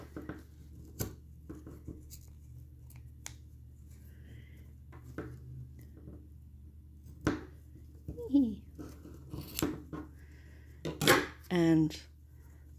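Scrap paracord ends being snipped for a bracelet, a few sharp isolated cuts and clicks spread over quiet room tone, with brief talk near the end.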